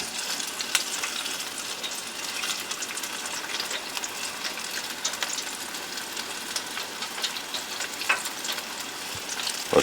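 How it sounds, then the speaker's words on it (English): Shrimp frying in hot oil on an outdoor cooker, a loud, continuous crackling sizzle with small pops throughout, close up and with no voices. "Then we're going to get to frying the rest of these up."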